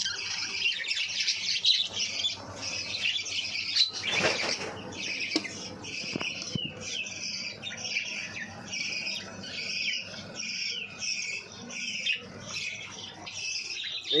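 Caged parrots and chicks squawking together, a busy stream of harsh calls and rapid chirps rising and falling throughout, fairly close, with a louder burst of squawks partway through and no talking.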